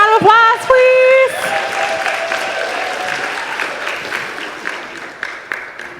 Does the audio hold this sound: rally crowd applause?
yes